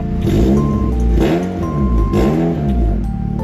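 An automatic Honda Civic FD 1.8E with a Type R body kit idles loud and close, its engine note swelling in a few rhythmic revs.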